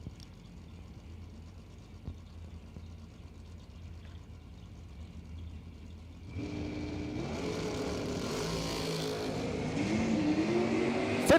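A station wagon and a Ford Mustang drag racing down a strip, engines faint and distant at first, then growing louder after the launch as the cars roar away, still fairly soft overall.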